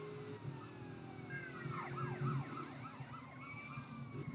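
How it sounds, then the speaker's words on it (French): A police siren in Grand Theft Auto wails with fast, repeated yelping sweeps over a steady game hum and engine drone, fairly loud, with no one speaking. "Voilà, mais la sirène."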